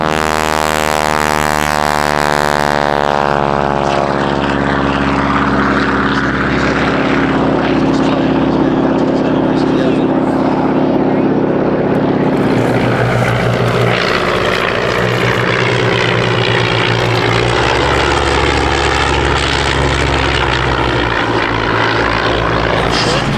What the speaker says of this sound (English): That was loud! The engine, it's the tips of the propeller.